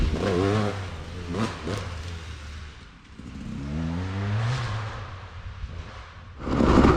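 A KTM 200 XC-W dirt bike rides wooded singletrack, its engine revving up and dropping in several rising bursts, loud and close, with a hard final surge at the end.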